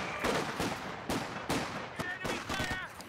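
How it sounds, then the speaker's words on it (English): Machine gun fire in Company of Heroes 2, with repeated sharp bursts and volleys crackling across the battlefield, some near and loud, with mixed gunfire layered over a busy combat background. "Machine gun"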